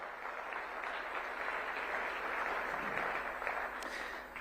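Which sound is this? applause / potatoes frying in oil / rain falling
applause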